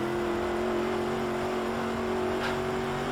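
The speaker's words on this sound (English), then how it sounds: "Third gear, we can floor it, but it's still a little bit squirrely." A race car engine in the Automobilista 2 video game holds full throttle in third gear on slick tires. It gives a loud, steady, close droning whine with no pauses throughout.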